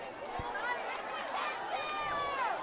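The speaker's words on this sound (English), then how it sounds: "Listen to this crowd." Crowd noise at a high school football game, a steady, dense wash of many voices and cheering holding at an even level throughout, with a brief thump near the start and faint whistle-like tones.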